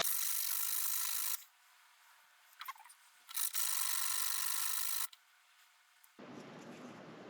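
Abrasive sanding of a Damascus steel ring turning on a lathe: bursts of bright, steady rasping friction that start and stop several times, with quieter gaps between passes and a duller rushing noise at the end.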